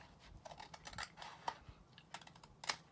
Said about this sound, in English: from this outside corner, hope you can see this, we're going to cut diagonally